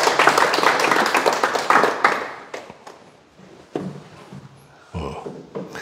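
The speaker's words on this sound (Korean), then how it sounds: "박수 한번 주세요." Audience applause at a Sunday lecture, loud and dense for two seconds, then thinning to scattered claps and soft thumps.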